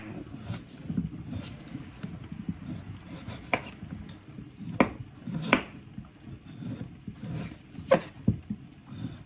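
A knife chops pork on a cutting board for boiled pork soup, with sharp irregular thuds spaced a second or so apart over soft kitchen rustling.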